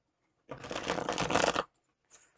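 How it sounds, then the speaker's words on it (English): Tarot cards from a new deck are shuffled by hand in one close, crisp riffling burst of about a second, with a brief second shuffle starting just before the end. "Let me see how it shuffles."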